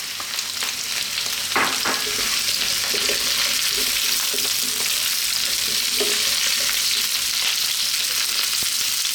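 A red onion fries in a pan with curry leaves, giving a steady loud sizzle throughout with a few spoon scrapes and stirs near the start, close up and without speech.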